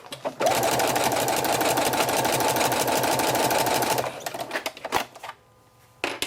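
A sewing machine stitches a cloth diaper with a 3/8 inch seam allowance, running forward, back stitching and forward again: a steady loud mechanical whir for about four seconds, then short stop-start bursts and a brief final run.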